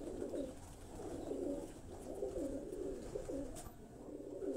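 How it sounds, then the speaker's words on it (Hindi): Parwazi flying pigeons at a breeder's home in New Mirpur, Gujrat coo in low, continuous rolling murmurs, close and soft, with no talk over them. "ये परवाजी कबूतर आपको दिखाए जा रहे हैं"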